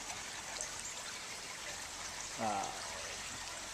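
A creek at a deep swimming hole flows with a steady, soft rushing murmur, and a brief louder splash or gurgle stands out near the end.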